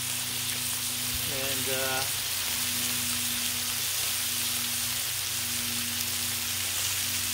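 Breakfast food fries across a 36-inch Blackstone griddle in a constant, even sizzle like light rain, with a low steady hum beneath and a short tonal sound rising briefly early on.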